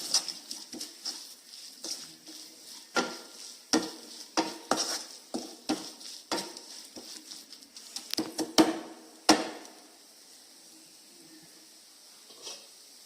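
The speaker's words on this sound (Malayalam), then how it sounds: "മിക്സ് ചെയ്ത് പിന്നെ ആ പച്ചമണൊക്കെ പോകുന്നവരെ വരെ നല്ലോണം ഒന്ന് ചൂടാക്കി എടുക്കുക" A spoon scrapes and stirs masala for Malabar chicken curry in a hot pan, with soft sizzling under irregular close scraping strokes that stop near the end, leaving quiet frying.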